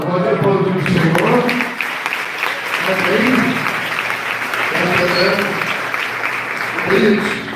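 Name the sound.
church congregation applauding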